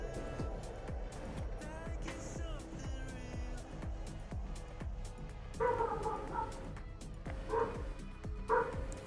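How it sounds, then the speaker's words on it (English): Indoor dog barks and yips in a few short bursts in the background, faint beneath game sounds and a voice speaking. "Is my mic picking up my dog barking?"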